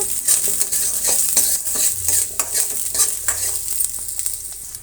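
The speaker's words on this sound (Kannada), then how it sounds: "ಅದರ ಜೊತೆಗೆ ಬೆಳ್ಳುಳ್ಳಿ ಕೂಡ ಫ್ರೈ ಮಾಡ್ಕೊಂಡ್ಬಿಡೋಣ. ಚೆನ್ನಾಗಿ ಫ್ರೈ ಆಗಬೇಕು." Garlic and curry leaves fry in a pan with a loud, bright sizzle, while a spoon stirs them in repeated scraping strokes close by, steady and without talk.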